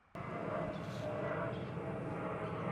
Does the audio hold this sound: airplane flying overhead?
yes